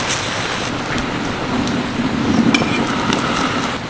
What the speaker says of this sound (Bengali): চলো বাকি লাচ্ছা পরোটাগুলো আমি একইভাবে ভেজে নিই।